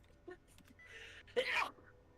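A single short, sharp sneeze bursts out in a quiet room, preceded by a few faint breathy sounds.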